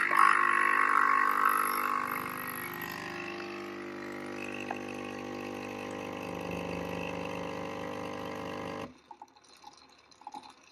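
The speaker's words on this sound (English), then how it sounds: "press the espresso button, which is the little cup button on the left-hand side, to get our first shot" A Nespresso machine brews an espresso shot from a pod with a loud, steady pump hum and liquid flow that runs for several seconds, then cuts off abruptly, leaving faint room noise.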